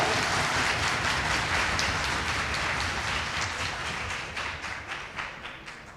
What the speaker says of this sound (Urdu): بھرپور تالیاں